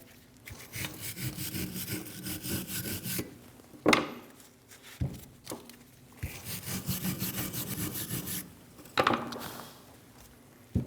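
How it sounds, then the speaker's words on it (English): A wire brush scrubs the bracket of a rear brake caliper on a Chevrolet Malibu where the pad tins sit, making steady rasping back-and-forth strokes in bursts, close and fairly loud, with short pauses between passes. "We're going to clean where our tins sit using a wire brush."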